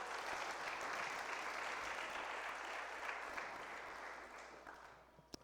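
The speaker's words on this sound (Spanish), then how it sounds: "Démosle una ofrenda de palmas al Señor." Church congregation clapping together during a worship service, a dense steady wash of applause that holds for several seconds before thinning out near the end.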